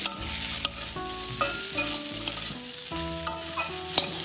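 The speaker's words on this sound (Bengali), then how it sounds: "ডাঁটাগুলো হালকা নেড়ে দেব তেলে।" Pointed gourd stems tossed in hot oil with fried potatoes, stirred lightly in a pan, giving a close, lively sizzle with repeated spoon scrapes and taps against the metal.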